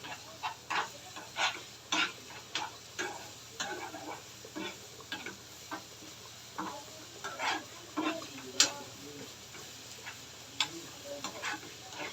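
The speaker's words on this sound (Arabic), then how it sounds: "نوطي الشعريه كده شويه، نحمر الثوم" Garlic and vermicelli frying in a pan while being stirred, giving scattered scraping clicks and taps over a faint, steady sizzle, close by with no talking.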